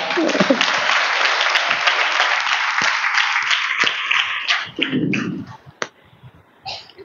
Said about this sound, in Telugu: క్లాప్స్ కొట్టి గట్టిగా.